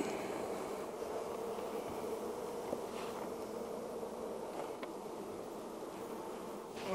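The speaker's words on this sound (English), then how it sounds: "we're going to shake all those bees underneath, and then we'll put it back together." Honey bees in a swarm catching box, a soft continuous buzzing hum of many bees, steady and fairly faint throughout.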